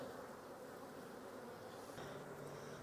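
Honey bees buzz in an open hive during a bee yard inspection, a dense, even, close drone that holds steady throughout with a slight shift in pitch near the end.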